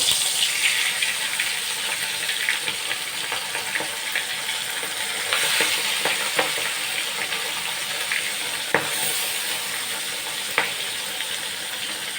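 Poa fish, or croaker, fries in hot oil in a wok, giving a loud, continuous hiss and sizzle with scattered sharp pops and crackles throughout, and no voices.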